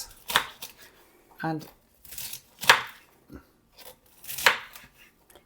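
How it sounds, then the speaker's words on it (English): A knife chops asparagus into small chunks, giving several sharp, crisp cuts in an uneven rhythm on a board, close up, with a brief spoken word in between. "Just want to cut in small chunks"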